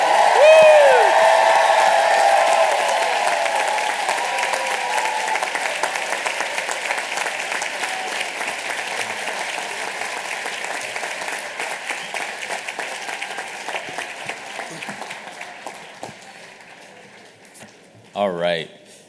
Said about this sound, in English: one more big round of applause for the entire class of